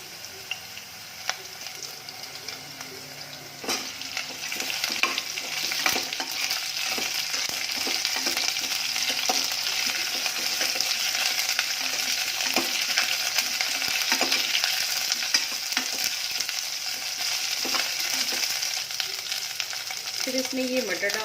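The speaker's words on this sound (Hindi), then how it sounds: "अब हम इसमें डालेंगे आलू। आलू को अच्छी तरीके से भूनने के बाद" Potatoes sizzle steadily in hot oil in a pan for mixed veg tahiri, a continuous close frying hiss with occasional scrapes and clinks of a spoon stirring.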